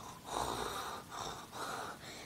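A voice imitates a stranger's heavy, wheezing breathing in a cinema, three drawn-out raspy breaths in a slow rhythm, close and fairly soft.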